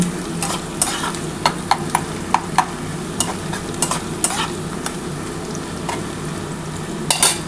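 Cumin seeds fry as a tempering in a pan, a steady close sizzle with a spoon scraping and tapping the metal in a loose, repeated rhythm.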